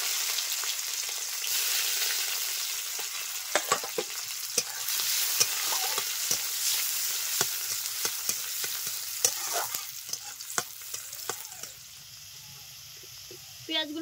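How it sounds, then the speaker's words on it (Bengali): A bay leaf, whole cumin seeds and a thinly sliced onion fry in hot oil with a soft, steady sizzle. A spoon clinks and scrapes now and then, fairly close in a home kitchen. "তেল গরম হয়ে গেছে, দিয়ে দিলাম একটা তেজপাতা, গোটা সাদা জিরে, একটা পেঁয়াজ সরু করে কেটে নিয়েছিলাম দিয়ে দিলাম।"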